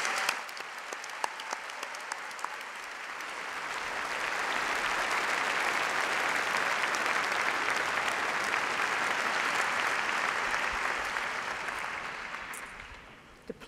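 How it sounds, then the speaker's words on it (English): A large crowd applauds graduates of a postgraduate ceremony for the natural sciences and medicine faculties, a steady, dense wash of clapping that swells, holds for several seconds and then tapers off. "Please join me in a round of applause for graduates."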